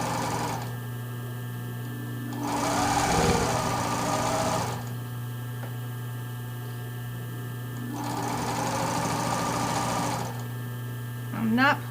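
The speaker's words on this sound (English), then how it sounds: "So even though I have the right side facing out, I'm sewing it on the inside of it." A sewing machine stitches a tank top seam in two bursts of rapid mechanical whirring separated by pauses, close and clear over a steady background hum.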